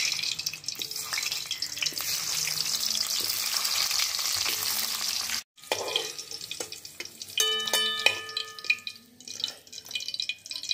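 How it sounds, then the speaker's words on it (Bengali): Potatoes frying in mustard oil make a steady, bright sizzle that cuts off briefly, then gives way to quieter crackles and sharp metallic clinks of a utensil against the pan. No voices. "এই সর্ষের তেলটা দিয়েই আমি আলুগুলো ভেজে নেবো"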